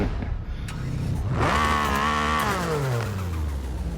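A Cadillac race car engine in Forza Horizon 5 starts up and revs, its pitch rising and then settling into a steady, synthetic-sounding hum, with no talking.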